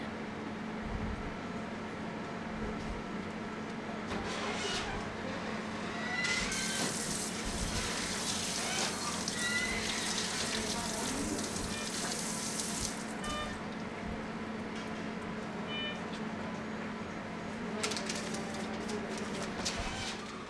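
Hands being washed under running water from a tap, a steady continuous splashing wash with some brief louder bursts, heard alone without speech.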